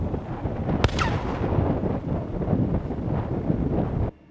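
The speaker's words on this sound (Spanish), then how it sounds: "se procedió a realizar una detonación controlada del explosivo" A controlled police detonation of a hand grenade at a residence gives one sharp, distant blast early on, buried in heavy wind buffeting that rumbles steadily until it cuts off abruptly.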